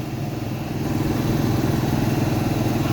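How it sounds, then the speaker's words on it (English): Hydraulic pump on a 2016 Thor Hurricane 35C motorhome runs with a steady, fairly loud motor drone and a rapid low pulsing throb, continuous for the whole stretch and with no talking over it. "Hydraulic pump."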